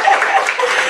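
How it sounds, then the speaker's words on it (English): Audience applauding at a live jazz concert, a short steady burst of dense clapping that fills the whole moment, close and fairly loud, with faint voices mixed in. "Applause for that."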